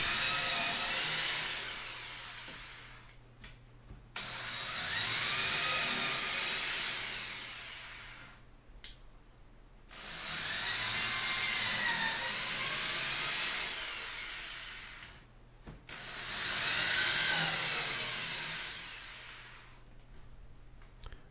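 A power drill re-drills screw holes in the wooden frame of a dance pad replica in three long, loud bursts, its motor whining up and down, with short quiet pauses between the bursts.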